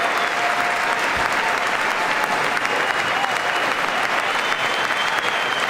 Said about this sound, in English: they're clapping for him telling the truth for once